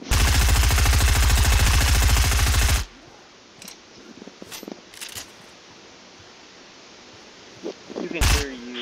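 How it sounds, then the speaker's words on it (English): After a loud opening burst, sharp Fortnite gunshots crack out in short, separated bursts against a hissing background. "You can hear you firing your weapon."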